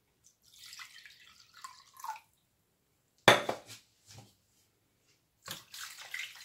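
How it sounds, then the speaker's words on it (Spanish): Pork rib mixture rinsed under running water in a kitchen, with splashing bursts, drips and clinks of a bowl or pan, separated by quiet gaps. "Vamos a enjuagar esto bien."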